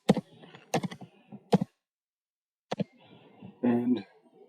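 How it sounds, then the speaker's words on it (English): An equation is typed on a computer keyboard in a few sparse, close keystroke clicks with gaps of silence between them, ending in a short cluster of taps. "You can type in an equation"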